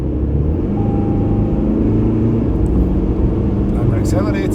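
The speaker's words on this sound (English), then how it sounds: "And we're accelerating, 55, 56, 57, 58, 59, 60." A 2025 Toyota Land Cruiser with a 2.8L diesel climbs uphill in wet conditions, its engine droning low and steady inside the cabin under continuous talk, pitch rising gradually as speed builds.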